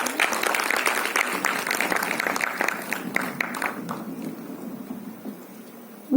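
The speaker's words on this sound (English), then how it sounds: "you should give a big round of applause for your own self" Applause from a lecture audience, a dense patter of clapping that gradually thins out and fades away.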